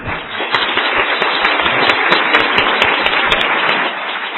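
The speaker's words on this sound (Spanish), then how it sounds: "Pues un aplauso a nuestro panel" An audience at a national congress on eradicating child labour applauds the panel. The clapping is dense, loud and sustained, rising quickly and easing slightly near the end.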